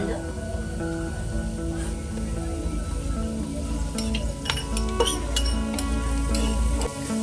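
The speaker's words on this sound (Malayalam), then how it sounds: "ഇതിലേക്ക് നമുക്ക് ജിഞ്ചർ ഗാർലിക് ചതച്ചത് ചേർത്ത് കൊടുക്കാം." Crushed ginger and garlic sizzling in a pan of hot oil for Yemeni-style chicken mandi, a steady frying hiss with scattered metallic clinks of a stirring spoon, close and continuous.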